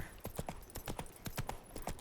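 Horse hooves clip-clop in the video game The Witcher 3: Wild Hunt, a quick, even galloping rhythm of many hoofbeats, faint and steady throughout.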